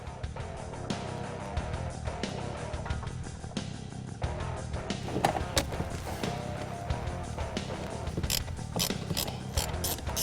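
Ratchet clicking steadily as it backs out the screws holding the shifter plate to the transmission tunnel of a 1969-1973 Mustang, close and continuous for the whole stretch with no talk.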